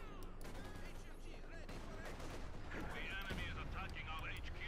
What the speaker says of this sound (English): Machine gun there getting hammered by heavy mortar fire there.